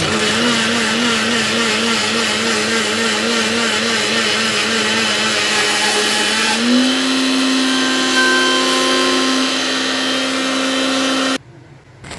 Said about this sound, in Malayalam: ഈ ഒരു സൗണ്ട് വന്നു കഴിഞ്ഞാൽ നിങ്ങൾ ഈ മിക്സി കറക്കുന്നത് സ്റ്റോപ്പ് ചെയ്യുക.